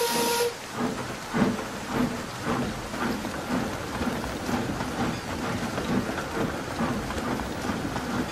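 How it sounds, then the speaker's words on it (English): Heavy rain pours steadily at a railway junction during a storm, a dense continuous hiss with a faint low rumble and a brief high whistle at the start. "it was pouring hard"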